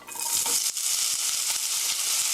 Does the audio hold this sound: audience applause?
no